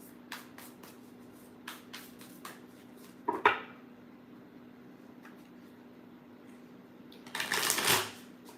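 A Disney Villains tarot deck is shuffled by hand in a quiet room: a few soft taps and riffles, a short flutter midway, then a longer, louder riffle near the end, all close up.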